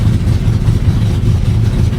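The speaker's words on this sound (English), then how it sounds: "Idling right now at 1400." A wagon's engine idles at about 1400 rpm, fitted with a mechanical tach and a tunnel wrap, giving a loud, steady low rumble with an even throbbing pulse throughout and no talking.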